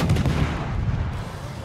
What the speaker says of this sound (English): That's some withering fire there.